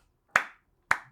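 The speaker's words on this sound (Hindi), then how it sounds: "ताली बजाई, सॉफ्ट तालियां" Two soft, single hand claps about half a second apart, each sharp and quickly fading, in an otherwise quiet room.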